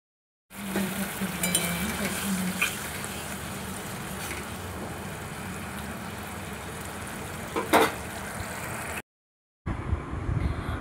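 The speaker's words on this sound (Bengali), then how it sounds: "দিয়ে মশলাটা খুব ভালোভাবে আমি কষাবো" Spice paste sizzles and fries steadily in a pan for a Bengali okra dish, with a continuous frying hiss and a few brief clinks of stirring.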